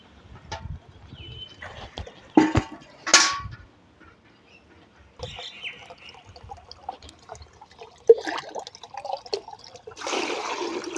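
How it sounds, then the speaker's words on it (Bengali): Water is poured and mixed into homemade liquid organic fertilizer for periwinkle plants, with sloshing and splashing bursts amid handling clatter, then a longer pour near the end. "এবার একটু জল মিশিয়ে নেব"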